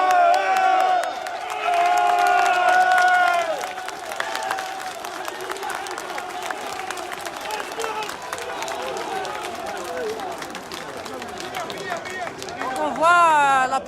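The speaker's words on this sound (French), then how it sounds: "les pompiers sont en train d'applaudir" Firefighters of the civil protection applaud during a large peaceful protest march in Algiers, a crowd's clapping and cheering rising in waves with whistles and chanting, while voices talk close by.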